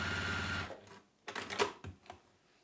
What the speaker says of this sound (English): Now let's sew up the lining, leaving a turning through gap in the base.